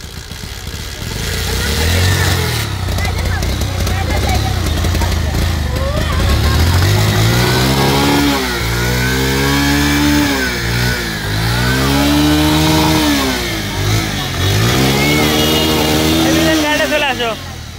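A Bajaj Pulsar 150 motorcycle engine is started during servicing after a spark plug cleaning, then revved repeatedly in rising and falling sweeps, loud and close throughout.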